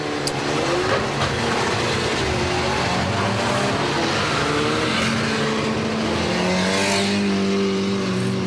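Stock cars racing around an oval at a Warton Stock Car Club meeting, engines roaring loud and continuous as several cars pass and rev, with pitch sweeps from passing machines.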